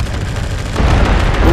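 Video game gunfire booms as a dense burst of shots and blasts that grows louder halfway through, with no talking.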